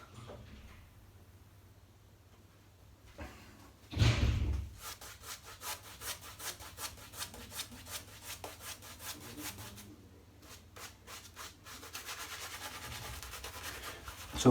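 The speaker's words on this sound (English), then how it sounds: "there's a nice little bit of scrub with this brush" A new Semogue 1460 boar-bristle shaving brush works lather of citrus, cedar and amber soap against skin, a close, dry scrubbing and rasping that comes in rhythmic strokes after a brief louder rustle.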